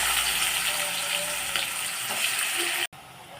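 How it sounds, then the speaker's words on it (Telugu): Onions fry in hot oil that already holds cumin and cinnamon for biryani, giving a loud, steady close sizzle that runs without a break and drops out for a moment near the end. "ఆనియన్స్ వేగుతున్నాయి కదండి."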